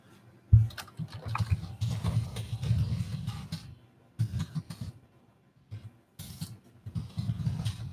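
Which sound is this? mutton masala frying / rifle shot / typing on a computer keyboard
typing on a computer keyboard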